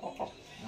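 An aggressive Aseel rooster, a homebred Lakha Teekar gamecock, gives two short, close clucks in quick succession over a faint background hum.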